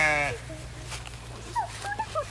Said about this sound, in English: But our sheep, we move around constantly.